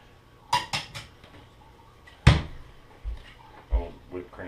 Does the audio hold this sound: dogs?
no